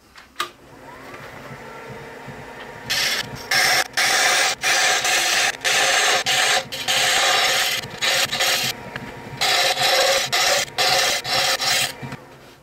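Wood lathe turning and rounding off a small gift box lid: loud, close, harsh scraping of the tool on spinning wood in repeated bursts of a second or so, separated by brief breaks, after a quiet start.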